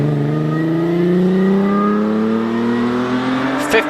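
A vintage sports car accelerates hard up the Prescott hill climb, its engine note climbing steadily in pitch through a gear, loud and fairly close, with a short sharp click near the end.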